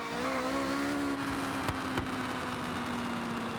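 Swapped engine in a racing video game idling and revving with a steady droning tone, broken by a couple of sharp anti-lag pops and bangs near the middle, loud and alone.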